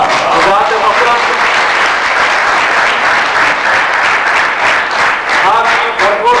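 Audience at the opening ceremony of the Pakistan Association of the Blind's silver jubilee celebrations breaks into loud, sustained applause, dense clapping filling the hall steadily throughout.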